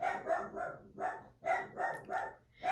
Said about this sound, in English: It's a wonder that dog has not gotten hoarse yet.